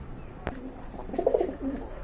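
Low, throaty cooing of Giribaz pigeons rises and falls in a few close murmuring phrases, with a single sharp knock early on.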